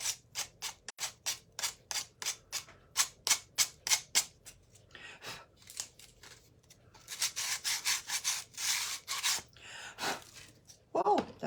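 Decoupage paper being rubbed smooth by hand, a run of quick rhythmic scraping strokes close up, pausing midway before denser rubbing resumes, with brief speech near the end.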